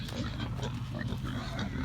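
Pigs grunt on a farm, low snorting and rooting noises crowding close together in a steady, busy stream while they feed.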